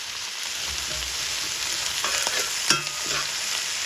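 Green chillies, garlic and curry leaves sauté in hot oil in a pan, giving a steady close sizzle with occasional stirring scrapes and a sharp clack near the end.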